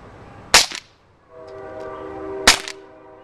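A Walther P38 BB pistol firing two shots, each a sharp, loud crack with a short rattling tail, about two seconds apart, with a quiet hum between.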